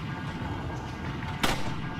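A single sharp gunshot cracks out partway through, over a steady bed of game ambience and noise, in Resident Evil 4 HD.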